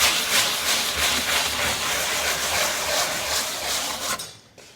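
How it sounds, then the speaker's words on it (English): Steady hand-sanding of a wooden cabinet with raised textured stencil paste, a dense rasping scrape with rhythmic back-and-forth strokes, close and fairly loud, stopping near the end. "now I just sand the part with the raised stencil"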